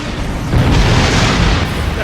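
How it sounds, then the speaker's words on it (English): Weapons fire striking a time portal in the Star Trek Online game, a loud rumbling boom and crackle that swells and holds over a low roar, with voices nearby. "The heralds are firing on the portal!"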